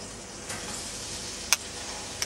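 Beans, carrots and Brussels sprouts sizzle softly in hot melted butter, a steady faint hiss with a couple of sharp clicks from a utensil.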